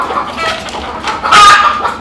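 Desi free-range laying hens on a poultry farm cluck steadily nearby, with a louder burst of clucking toward the end and no voices.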